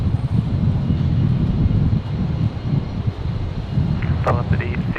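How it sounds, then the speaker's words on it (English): Virgin flight 931 from Sydney, an airliner landing at Brisbane Airport on a windy day, gives a steady broad engine roar close by, heavy wind rumble buffeting throughout and a brief higher whine near the end. "So we've got Virgin 931 coming in from Sydney."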